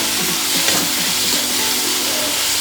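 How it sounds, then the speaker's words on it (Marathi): Chopped onion fries on a high gas flame in oil for a dal tadka, crackling with a steady dense sizzle and small popping bursts, close and continuous throughout. "आणि कांदा दोन्ही सोबतच टाकणार आहे मी आणि हाय फ्लेम करायचा गॅसचा, चांगलं परतून घ्यायचं"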